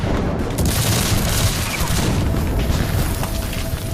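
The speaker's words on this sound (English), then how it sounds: "Bullets and shells fly in all directions." Battlefield gunfire with exploding artillery shells at Gettysburg in 1863, a loud, dense, continuous rumble of booms and volleys with no pause.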